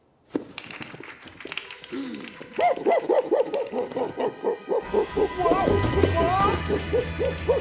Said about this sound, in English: Look who's up and barking.